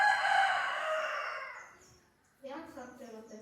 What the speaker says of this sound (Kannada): ಒಂದು ಕೆಂಪು ಕೋಳಿ, ಒಂದು ಕಪ್ಪು ಕೋಳಿ ಅನಿಸುತ್ತೆ.